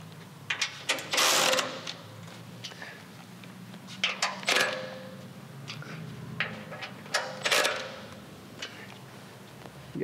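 A ratchet tightens bolts on a bash plate for a Toyota Prado 150, clicking in several fast bursts of sharp pawl ticks separated by short pauses, close and loud, with a person talking quietly in between.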